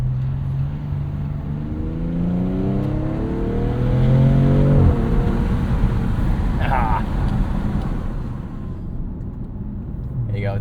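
A 2026 Dodge Charger Scat Pack sedan with twin-turbo inline-6 engine, heard from inside with windows down, revving up through a rising harmonic drone that peaks then drops on a shift, wind and road roar continuing, with a brief voice.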